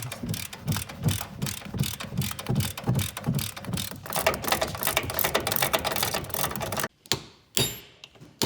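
Ratchet wrench clicking in quick rhythmic bursts while a leveling kit goes onto a 2020 Chevrolet 2500HD truck. The clicks are close and steady at first, then stop abruptly near the end, leaving a few sharp metallic knocks.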